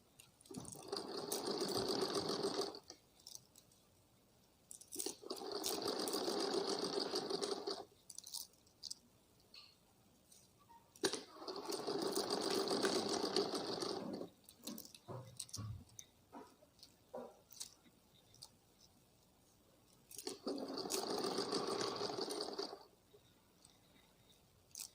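Sewing machine running a loose tacking stitch around the neckline of an umbrella frock, four separate bursts of a few seconds each with quiet gaps between, close by.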